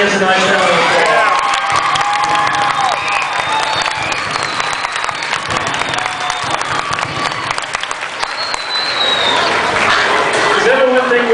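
Crowd at a state fair senior showmanship class applauds and cheers steadily, with whoops and shouts layered over continuous clapping, while voices carry through the noise.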